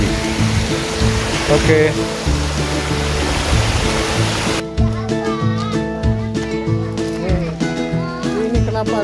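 A waterfall pouring into a shallow pool at a falls in Aceh Jaya gives a steady broadband rush, loud at first and then partly masked as people talk nearby.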